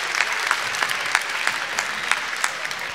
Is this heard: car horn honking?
no